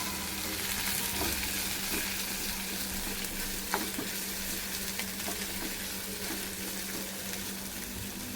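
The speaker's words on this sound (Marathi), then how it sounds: "कांदा, या भाज्या छान मिक्स करून घ्यायच्या." Onion and vegetables for hakka noodles sizzle in a hot pan while being stirred, a constant frying hiss with occasional scraping clicks of the spoon, steady and close.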